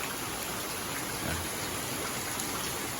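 Steady rain falls on a misty mountain morning, a continuous even hiss of drops on surfaces with no voices, holding the same level from start to finish.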